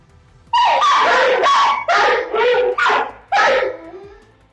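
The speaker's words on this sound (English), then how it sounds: "the dogs start the clip barking pretty loudly at something" Two dogs bark loudly on CCTV in a run of about five harsh, close barks with short gaps between them, and no other sound.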